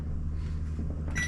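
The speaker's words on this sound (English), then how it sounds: "I'm putting it in the microwave" A microwave oven door shuts with a soft thud and the oven starts up, its steady low hum running throughout and ending in a faint electronic beep.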